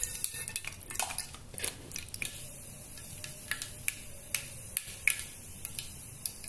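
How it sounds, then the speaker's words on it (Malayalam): Mustard seeds crackle and pop in hot coconut oil in a pan while jackfruit erissery is being cooked, a scatter of sharp, irregular snaps over a soft sizzling hiss, fairly close and with no talking. "കടുക് പൊട്ടിയിട്ടുണ്ട്."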